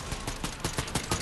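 Rapid gunfire in the battle royale game Fortnite crackles in a quick burst of about seven evenly spaced shots within a second, loud and sharp with no talking.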